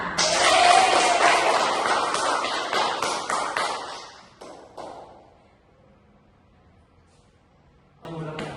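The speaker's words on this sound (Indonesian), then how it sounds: "Beri aplaus untuk semuanya." A school classroom applauding, a dense burst of many hands clapping that fades after about four seconds into scattered claps and quiet, then a brief rustle near the end.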